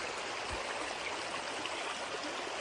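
A small wilderness creek flows steadily nearby, its broad, even rushing and babbling continuing without a break and with no voices.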